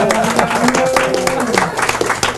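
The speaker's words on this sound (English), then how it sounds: "Let's have a big round of applause for Mr." Studio audience clapping for a guest on a 1987 variety talk show, a busy burst of applause under overlapping voices, fairly loud and close for the whole moment.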